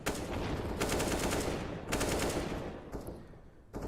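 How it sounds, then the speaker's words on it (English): Counter-Strike gunfire bursts through a wall, with rapid automatic fire arriving in several long, dense volleys and a short final burst, loud and sharp with brief gaps between them. "Okay, that's an interesting wallbang right there."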